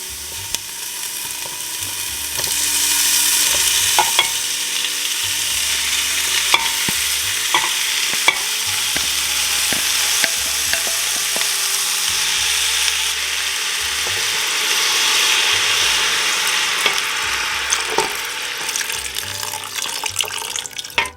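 Beans are added to a pot of softened vegetables and stirred, bringing a steady wet sizzle and bubbling with scattered clinks of a spoon against the pot, with no talking.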